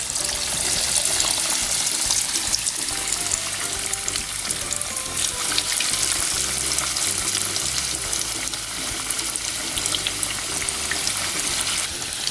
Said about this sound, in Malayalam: ഇനി ഫ്രൈ ചെയ്യാനായിട്ട് ഇടാൻ പോവാണ്.